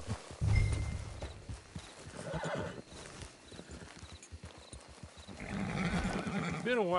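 A horse in a PS4 video game clip-clops along and lets out a whinny near the end, with in-game speech over the hoofbeats.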